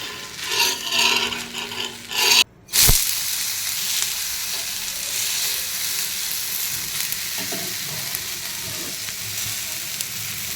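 An egg dish fries in oil in a pan, giving a loud, continuous sizzle close by, with scraping and rubbing as it is flipped and a brief break in the sound early on.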